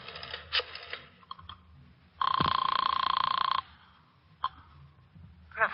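A telephone bell rings once in a radio crime drama, a loud, buzzy metallic ring lasting over a second, framed by soft clicks and handling noises before and after.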